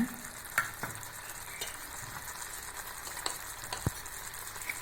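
Potatoes join tomato and curry leaves frying in a pan, a soft continuous sizzle with intermittent spoon scrapes and clinks, fairly quiet and close.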